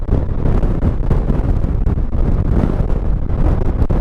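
Steady, loud wind buffeting a microphone while riding a Honda NT700V motorcycle on a cold winter day around a lake, a continuous low roar with no speech.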